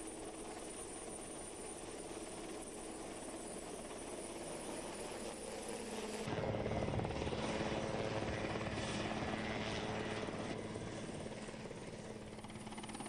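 A helicopter's steady rotor and engine drone grows suddenly louder and fuller midway as it approaches a helideck, continuing as a close, heavy thrum for several seconds.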